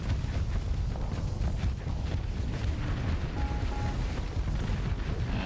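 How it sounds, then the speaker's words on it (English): Space combat in the video game Starsector as torpedoes strike an enemy station: a continuous dense rumble of heavy explosions and booming impacts, moderately loud and steady throughout, with no talking. "Here comes some more torpedoes."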